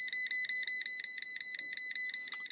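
Voltage proximity tester beeping at a live electrical outlet, a rapid regular series of about a dozen high, shrill electronic pips, close and clear with nothing else audible.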